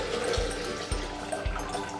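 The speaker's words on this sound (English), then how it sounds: "we're going to add our water, 1400 grams of water." Cold water pours from a kettle into a Thermomix bowl with a steady splashing rush and a few soft knocks, filling the short stretch without any talk.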